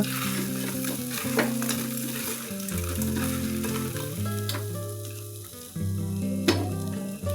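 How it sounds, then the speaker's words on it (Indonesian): Tofu sizzles and crackles steadily in a hot pan as it is stir-fried, with occasional scraping clatters of a utensil over the frying. "Kemudian masukkan tahu. Aduk sebentar."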